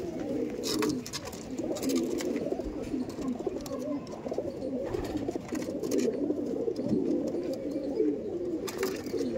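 Andhra Madrasi pigeons in a loft coo continuously, several birds overlapping in low, throaty rolling calls at close range, with faint rustling and occasional sharp clicks.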